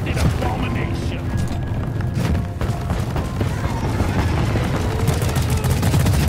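Dense gunfire and booms in a co-op video game during a fight against swarming Rockpox enemies, a continuous loud barrage with people talking over it.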